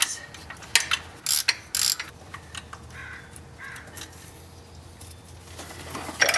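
A ratchet works on 10 mm bolts on the thermostat housing of an SR20DET engine in an S15, giving several short loud clicking bursts close by, then quieter fiddling and faint mechanical ticks.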